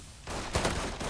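Gunfire from the video game Mafia 3: a rapid, loud fusillade of overlapping shots bursting in after a brief quieter start, dense and sustained through the short moment.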